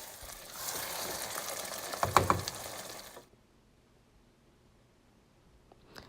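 Nigerian efo riro vegetable soup mixture is stirred in a pot, giving a wet, sizzling scrape for a few seconds with a few sharper knocks of the spoon, then near silence.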